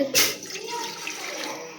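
Water pours into a pot to start sugar syrup for gulab jamun, a brief splashing gush at the start that settles into a softer trickle and filling sound, fairly close.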